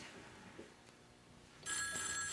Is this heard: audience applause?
no